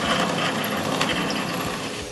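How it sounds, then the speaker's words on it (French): Drill boring a hole for a door handle in a wooden cabinet door, a loud steady grinding whir with a ratcheting texture that runs nearly unbroken and close up. "Je marque l'emplacement du trou pour la poignée de la porte, puis je le perce."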